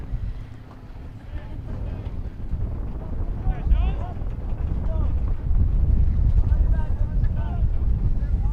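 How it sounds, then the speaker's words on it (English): Steady wind buffets the microphone with a loud low rumble throughout at an outdoor varsity soccer game, while a voice speaks faintly underneath. "It's a bit windy out."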